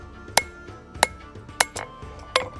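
Four sharp metallic hammer strikes ring out at uneven intervals as the bevel of a Sgian dubh knife is forged on the anvil, each blow bright and close with a short decay.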